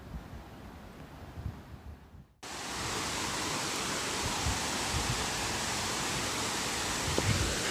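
A waterfall on the Hamilton Mountain trail roars as a steady, broad rush of water that starts up abruptly and then holds loud and continuous, with faint footsteps or brush at first.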